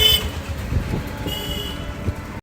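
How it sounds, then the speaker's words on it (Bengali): A train rumbles past at fairly close range, a steady low roar of wheels and carriages with a brief horn-like tone near the start and no talking. "এবার ট্রেন আছে ট্রেন ধরবো"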